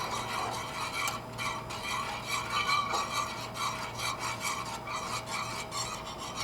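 Garlic cloves stirred and scraped with a spatula in a pan on a Blackstone griddle over medium to medium-high heat, a steady rasping, rubbing scrape close up with faint clinks, no talking.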